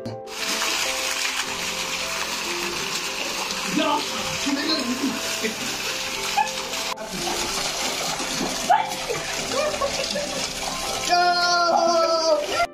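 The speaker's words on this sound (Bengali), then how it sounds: "এখন জল দেওয়ার কাজ চলছে তাও আমাদের একজন স্নান করছে" Water pours steadily into a swimming pool at Jhumur camp in Jhargram while someone bathes, a continuous rushing wash with splashes and voices talking over it throughout.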